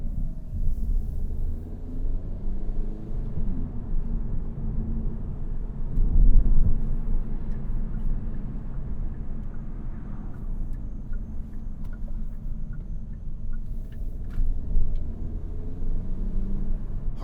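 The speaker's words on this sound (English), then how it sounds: "Harmonic noise from the tires, not overly loud, but there is a lot of vibration that does come in through the tires" Inside a 2025 Hyundai Elantra N DCT on low-profile tires, a steady low tire roar and rumble from the road fills the cabin, with a brief heavier thump about midway.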